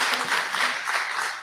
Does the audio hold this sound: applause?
yes